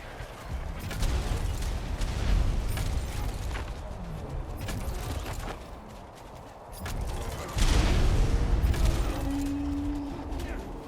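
Explosions and heavy impacts fill a battle against creature hordes in the video game ARK: Genesis, with dense rumbling blasts, mechanical clatter and a loud burst partway through, all layered over continuous game noise.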